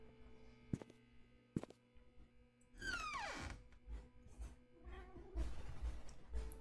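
In the video game The Painscreek Killings, a cat gives one drawn-out meow that slides downward in pitch, preceded by a couple of sharp clicks and set against a quiet, humming room ambience.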